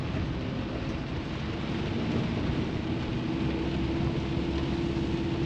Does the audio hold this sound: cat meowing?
no